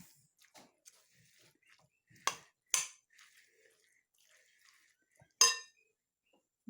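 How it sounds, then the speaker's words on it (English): A spoon stirs Monterey Jack cheese into a stuffed-pepper filling in a bowl, making a few sharp, separate clinks against the dish amid soft, quiet mixing sounds. "And I'm just going to stir this all up."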